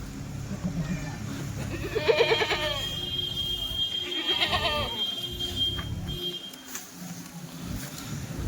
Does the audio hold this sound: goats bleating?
yes